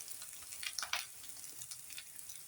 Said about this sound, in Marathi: मोहरी तडतडली आहे, आपण जिरे टाकले